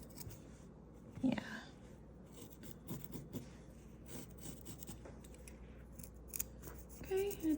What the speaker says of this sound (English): we're just going to cut out a circle to match this circumference